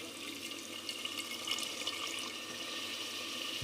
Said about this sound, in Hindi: अब इसमें थोड़ा सा पानी शामिल कर देंगे